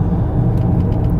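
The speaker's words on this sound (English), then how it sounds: "And Salakia, if you hear some noise in the background, I'm just driving." Car interior while driving, with a steady low road rumble and engine drone filling the whole short stretch at constant level, no talk over it.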